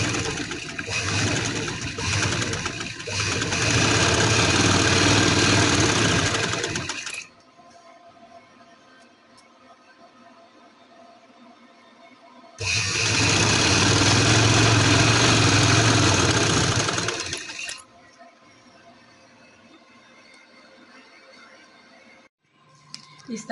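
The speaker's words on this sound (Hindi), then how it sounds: "इसको पक्का करने के बाद इस तरह से खींच के इसके ऊपर सिलाई लगा लेंगे।" A sewing machine stitches elastic onto a 2-year-old baby's summer frock, running in two long, loud, steady whirring bursts separated by a quiet pause with faint room sound.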